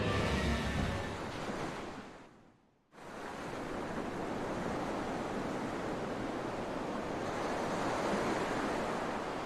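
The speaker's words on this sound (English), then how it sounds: "Wow, look outside! It's the ocean!" Ocean waves from the video game Tales of Berseria, a steady broad rush of surf and wind that dips briefly to near silence early on, then returns and continues evenly and fairly close.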